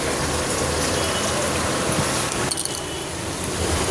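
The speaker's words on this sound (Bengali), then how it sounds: "বন্ধুদের দেখাই কতটা জল দিয়ে কষাবো।" Water poured into a hot pan of chicken being cooked, a loud continuous gushing splash close by that holds steady, then briefly shifts as the pour changes, with no talking.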